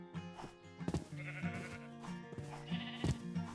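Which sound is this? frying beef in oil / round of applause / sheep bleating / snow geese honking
sheep bleating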